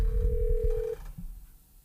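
A telephone rings once in a radio studio, a short loud electronic trill lasting about a second over low background rumble, followed by quiet.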